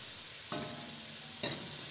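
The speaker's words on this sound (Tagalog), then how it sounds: "Ilagay na rin natin ang hiniwang repolyo." Sliced cabbage strips stir-fried in a pan for sotanghon guisado, a faint sizzle with two soft scraping stirs about a second apart.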